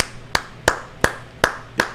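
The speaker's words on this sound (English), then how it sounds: "It's just him clapping" One person clapping alone in a large football stadium crowd of about 60,000: five loud, evenly spaced claps about a third of a second apart, sharp and close, with no other applause around them.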